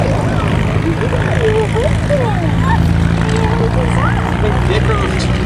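The B-17G bomber "Sally B" at a Duxford VE Day event produces a loud, continuous drone from its piston engines and propellers, heard steadily throughout with faint high chirping sounds over it.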